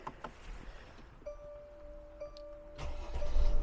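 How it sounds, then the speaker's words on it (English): A 2021 Mercedes Sprinter high-roof camper van with a V6 turbo diesel is started: a short starter whir, then the engine catches and settles into a low idle, quiet and close. "First though, let's start the van."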